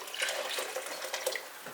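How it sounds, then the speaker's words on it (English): Tap water poured into a container to rinse it out while cooking red enchilada sauce, a soft continuous splashing and trickle with a few brighter drips, fairly close. "I'm adding water to rinse out the container."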